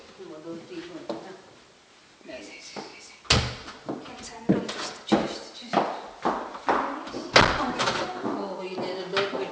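A stiff door is worked open and shut, giving a run of sharp, fairly close knocks and clunks in the second half, with quieter handling noise and some talking earlier on.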